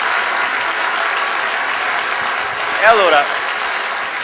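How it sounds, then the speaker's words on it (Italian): Steady applause from a TV studio control room during a live broadcast, continuous clapping with a brief voice cutting in midway. "ringraziamo il maestro Enzo Cenamo con un grande applauso dalla regia"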